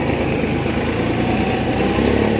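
A Kubota B2441 compact tractor engine runs steadily while towing a small trailer, a loud, continuous diesel drone heard close up, with no talking.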